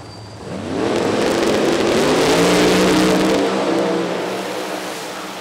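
A drag racing car launches hard and screams down the strip at full throttle, a loud sustained engine roar with rising pitch that fades slightly as it pulls away, no talk over it.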